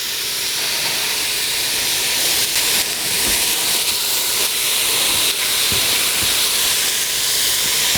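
Chicken pieces spread out in a hot pan for a soup, hissing and steaming steadily and loudly throughout with a broad, continuous sizzle and a few faint clinks, no talking.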